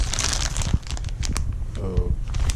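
Crumpling packing paper, a crinkly rustle that comes and goes over a couple of seconds, mixed with low voices talking nearby.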